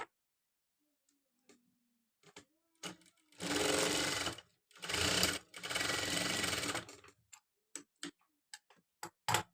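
A sewing machine stitches the front tuck points of a Katori blouse in three loud, close whirring bursts of a few seconds each, framed by sparse clicks and handling ticks in near silence.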